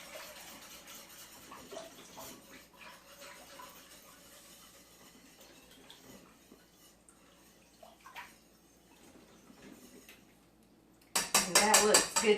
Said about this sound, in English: I'm going to whisk the soup and see if it's enough